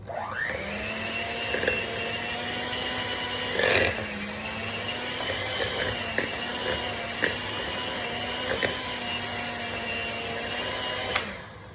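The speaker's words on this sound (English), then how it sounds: "we're going to take our beater, or mixer, whatever you want to call it, and we're going to just get all this beat together" An electric mixer beats carrot cake batter with butter, giving a steady, close, high motor whine with a few brief bumps and rattles as the beaters hit the bowl.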